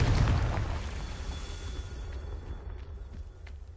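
A Confringo blasting spell in Hogwarts Legacy explodes in one loud burst at the start, then its rumble fades into a quieter, lingering tail.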